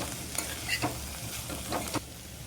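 Coconut paste being stir-fried with bitter gourd, with quiet sizzling and several distinct scrapes of a spoon stirring the pan at a close distance.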